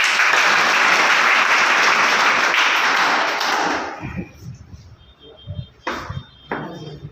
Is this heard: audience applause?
yes